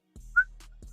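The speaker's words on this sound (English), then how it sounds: "Whistle blown." A single short whistle tone sounds near the middle, sharp and brief, set against a low steady hum with soft bumps at the start and end.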